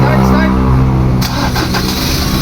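A Ford Ranger 2.2 diesel pickup engine, one that had stalled and would not run, cranks loud and close, then catches and settles into a rough idle partway through.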